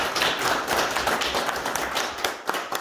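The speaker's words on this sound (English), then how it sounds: "Give her a round of applause." Audience applause for an American Legion award recipient, a room of hands clapping in a dense, uneven patter with a few sharper claps standing out, moderately loud throughout.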